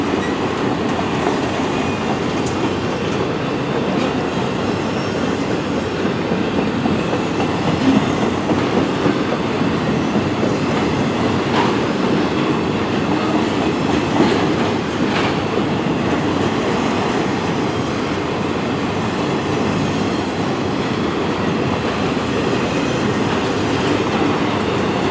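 A CN freight train rushes past at speed, a loud, continuous broadband roar of wheels and cars with faint rhythmic clatter, holding steady and close for the whole stretch.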